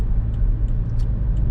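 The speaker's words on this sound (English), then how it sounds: "A car" Car traffic rumbles on the road, heard steadily and close from inside a moving vehicle, with faint high ticks over the low drone.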